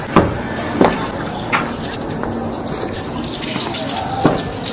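Water gushes steadily from the pipe of a home monoblock centrifugal pump under strong pressure, a loud continuous rushing wash broken by a few sharp splashes.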